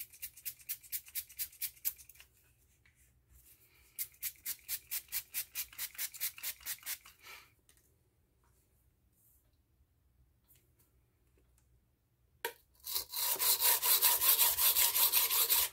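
Henckels 7-inch santoku knife sharpened on a coarse Norton Crystolon 120 grit silicon carbide stone, rapid rhythmic scraping strokes in two bursts separated by quiet, then a louder continuous rasping near the end.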